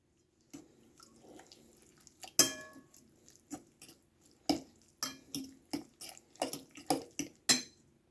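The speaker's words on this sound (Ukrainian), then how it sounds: "Виливаю сюди одну шклянку кефіра, перемішую" A fork stirs kefir into dry, fatty homemade cottage cheese in a bowl. Repeated wet clinks and scrapes land in an irregular rhythm, close and fairly clear. There is no talk.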